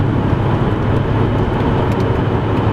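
Car engine heard from inside the cabin while driving, a dense steady low rumble with road noise that stays loud and continuous throughout, no talking.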